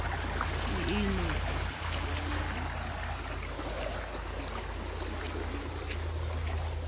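Steady, full rushing of a flowing river fills the scene at close range, with a short, faint voice early on under the water noise.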